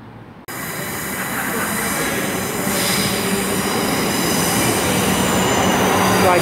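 A Class 444 unit pulls into Bournemouth station on a delayed service to Weymouth, with a steady rumble of rolling railcars and wheel noise that builds and stays loud throughout, plus some faint squeal.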